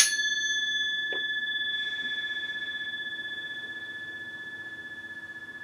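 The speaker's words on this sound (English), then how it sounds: "Here's the gong." A gong struck once during a tarot reading rings with a sharp metallic attack, then a steady bright tone that decays slowly over several seconds, heard alone.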